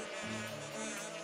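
Angry bees buzz in a steady insect drone after their hive is knocked down by a slingshot in the game Zelda: Skyward Sword, close and continuous with no talk.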